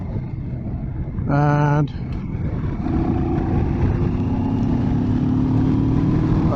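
A 2021 CF Moto MT650 motorcycle in eco mode pulls away in fourth gear from about 30, its engine note steady and then rising under continuous rushing wind. A short electronic tone sounds first, and a voice briefly talks over it.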